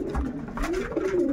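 Ice pigeons coo up close in a low, rolling, throaty call that rises and falls over about a second.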